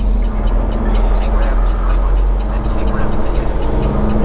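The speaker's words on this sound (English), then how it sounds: "Y'all hear that air compressor running?" An air compressor runs at a truck stop, a steady, loud mechanical drone with a low hum that holds unchanged throughout, mixed with diffuse background noise.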